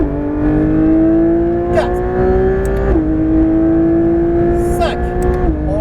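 A Porsche 911 GT3 RS engine howls on the Nogaro circuit, holding high revs that climb slightly and drop at each upshift, with a French instructor calling out over the loud onboard engine note.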